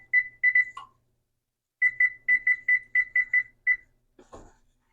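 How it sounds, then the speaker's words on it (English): A kitchen timer beeps in short, shrill pulses, first a quick group of three, then a pause, then a longer run of about eight evenly spaced beeps, loud and close, ending with a brief clatter. "I will set a timer."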